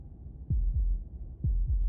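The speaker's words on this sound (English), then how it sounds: "That was the sound of a heartbeat" Heartbeat in the Slay the Princess video game: deep, booming thumps arriving in two quick double beats, lub-dub pairs over a low droning hum, loud and close with no talk.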